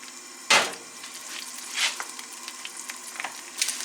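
An egg frying in a pan for a ham and egg grilled cheese gives a steady close sizzle, with a sharp crackling burst near the start and a few smaller spits and pops after it.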